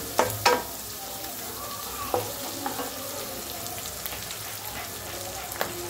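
Pre-boiled long-grain rice tipped into a pan over set fried egg, crackling with a soft steady sizzle, with a few knocks and scrapes of stirring at the start and near the end.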